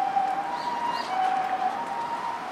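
An ambulance siren sounds steadily in the middle distance, rising and falling over outdoor street ambience while passing near the Mozu kofun tombs in Sakai, with faint birdsong in the background.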